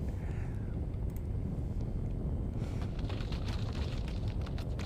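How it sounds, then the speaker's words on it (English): Trees breaking and things exploding in the game Swan Song come through as a heavy, low roar and rumble with wind-like noise, followed by scattered crackling and debris impacts later on. "I hear sounds of trees breaking and things exploding"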